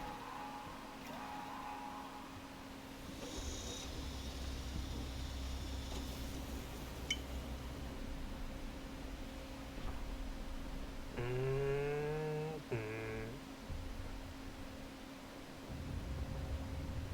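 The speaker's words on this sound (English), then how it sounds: "Now we can finally get this drill started." A deep-sea drill in the game DREDGE deploys and descends with a continuous mechanical rumble and hum, joined midway by a short, rising tonal groan.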